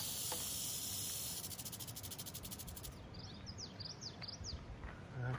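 A western diamondback rattlesnake gives a soft, buzzing rattle in short bursts, fairly faint against an outdoor background with bird and insect chirps.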